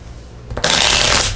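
Tarot cards shuffled once in a quick riffle, a sudden close, bright flutter of card edges rising after a quiet start and holding for about a second.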